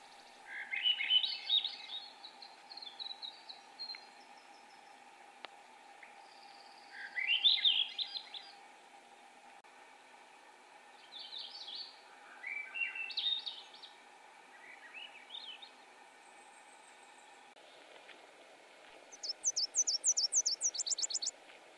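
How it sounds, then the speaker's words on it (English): Several Swainson's thrushes sing at dawn in dense balsam fir boreal forest on a Maine mountainside near Moosehead Lake, their rising, spiraling flutelike phrases coming in repeated bursts from near and farther off over a steady insect drone. "Just listen to all those Swainson's thrushes."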